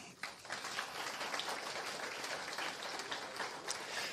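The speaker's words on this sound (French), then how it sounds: "Je vous demande d'applaudir Mme Claire Duguay au piano" An audience at a university graduation ceremony on the Saint-Jérôme campus applauds pianist Claire Duguay, a dense, even wash of clapping from a distant crowd that continues throughout and stays fairly faint.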